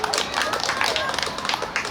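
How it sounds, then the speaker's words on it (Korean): Audience applause at a Teachers' Day celebration performance: a dense, steady wash of many hands clapping throughout, fairly close and full, with small surges and no pause. "다시 한번 큰 박수 부탁드립니다"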